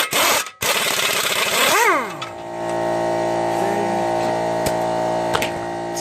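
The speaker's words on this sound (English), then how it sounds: "Sorry about the compressor, guys." An air compressor for pneumatic tools runs in a garage during a Subaru CV axle replacement. A loud rush winds down, then a steady, droning motor hum carries on close by.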